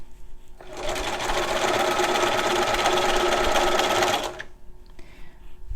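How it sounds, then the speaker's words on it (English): A home sewing machine stitches along a fabric ruffle for an angel ornament, a steady loud motor whir with rapid needle clatter running for about three and a half seconds, then stopping into near quiet. "I'm actually feeding it through my machine with this on the inside of the needle and this on the outside of the needle"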